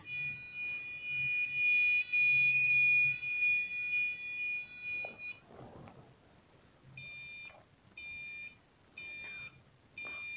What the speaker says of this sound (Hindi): जिस तरह हमारा पहला कोड था उसी तरह ही ये बीप साउंड दे रहा है